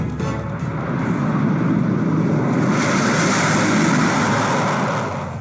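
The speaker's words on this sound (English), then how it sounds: "आकाश में नजरें टिक जाएंगी जब 6 जैगवार विमान बनाएंगे फॉर्मेशन" Six Jaguar jet aircraft fly overhead in formation during a Republic Day parade flypast, a loud, continuous broadband roar that swells and holds steady throughout.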